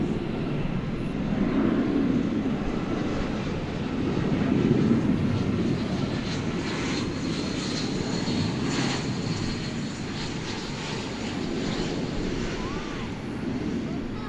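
An American Airlines jet takes off from runway 18 left at DFW Airport at night, a loud, steady, broad engine roar with wind noise on the microphone and a voice talking over it.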